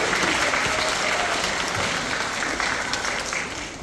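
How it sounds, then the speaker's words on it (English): An audience at a science show on electricity gives a round of applause, a loud, dense wash of clapping that holds steady for the whole stretch with no voices over it. "A big round of applause for Andrew."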